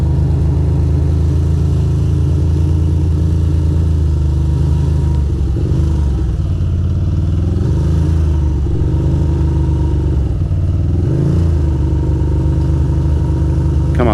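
A Ducati motorcycle rides through wet, foggy Manhattan and Queens streets, its engine a steady loud low rumble throughout with slight rises and dips in revs.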